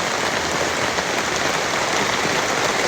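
Steady rain pours at White River in Ocho Rios, Jamaica, a dense, even hiss of drops hitting surfaces that holds at a constant loudness throughout, with no voices.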